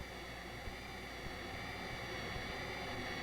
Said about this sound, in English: Let's listen to how this jet noise can be altered when parts of it are filtered or removed.